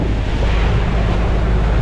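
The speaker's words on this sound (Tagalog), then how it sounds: "Ang alon po natin ngayon ay mababa lang, mga 2 feet, 3 feet." Steady, loud rush of sea water churning against a boat in waves of about 2 to 3 feet, mixed with heavy wind buffeting, with no voices.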